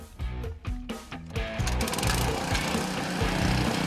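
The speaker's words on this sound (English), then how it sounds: "Now, the bolting machines come into play." Rail bolting machines working nuts loose on railway track fastenings, a loud mechanical run of rapid clattering bursts that settles into a steady whirring drone, close by with no talk.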